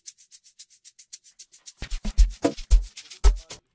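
A time-stretched shaker sample in an amapiano beat plays a steady run of quick, soft hissing shakes, then grows louder and denser as deeper percussive thumps join in.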